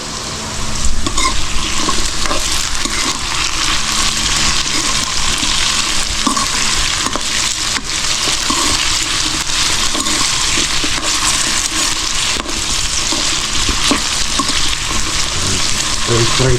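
Food frying in a pan while being stirred, a steady loud sizzle with scraping stir sounds running throughout, no speech over it.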